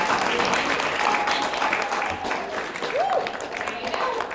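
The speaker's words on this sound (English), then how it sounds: "Clap, clap, clap." A small group claps steadily for a scout at a bridging ceremony, with continuous moderate applause throughout and a voice speaking over it.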